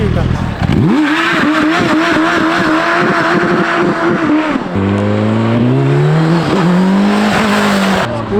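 Suzuki Hayabusa sport motorcycle ridden off-road, its engine loud and close, revving hard and rising in pitch through the gears, with a rider talking over the sustained roar.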